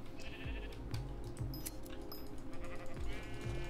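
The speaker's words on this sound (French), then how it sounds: "il y a des moutons partout." Several sheep bleat in Minecraft Hypixel Skyblock, short repeated calls over a busy, steady game backdrop, fairly close and layered.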